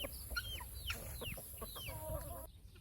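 Chickens on a homestead cluck and squawk nearby in a busy, irregular chorus of short calls and rising notes over a low background rumble, with no talking.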